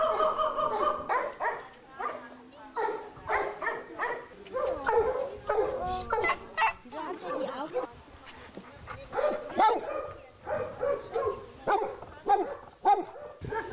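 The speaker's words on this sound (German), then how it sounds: "das ist unser Gang von den Hunden" Dogs in the kennel corridor of an animal shelter bark, yip and whimper almost continuously, several animals overlapping in a busy, echoing chorus at close to moderate distance.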